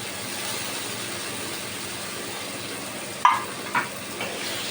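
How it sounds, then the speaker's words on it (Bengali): Grated onion fries in a pan with a steady low sizzle, broken near the end by a few sharp scrapes and clinks from the stirring spoon. "এবার এটাকে আমি ভালো করে নাড়তে থাকবো ভাজে ভাজে হয়ে এসছে"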